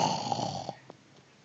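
A young child imitates a father's snoring with a rasping, throaty snore-like breath that lasts under a second, then fades into quiet room noise with a few faint clicks.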